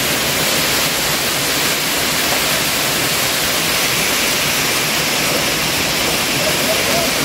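A little-known river in Mercedes Umaña, Usulután, El Salvador, its water rushing steadily as a loud, unbroken broadband roar with no voices.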